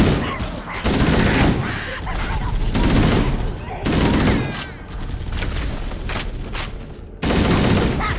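Gunfire rattles through a Halo: Combat Evolved match in loud, sustained bursts of rapid shots with brief pauses between them.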